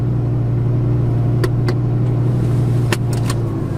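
Audi R8 with a V10 engine and R-tronic gearbox, heard from inside while driving: a steady, loud low engine drone and road rumble that hold throughout, with a few faint clicks on top.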